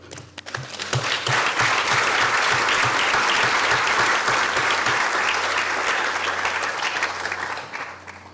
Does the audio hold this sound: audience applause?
yes